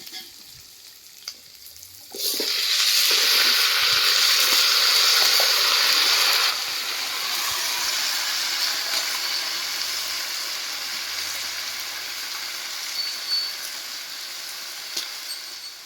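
Chopped chow chow (chayote) stir-fried with already-softened onion and green chilli, a loud steady sizzle that flares when the vegetable hits the pan, then settles into a continuous hiss with faint stirring scrapes.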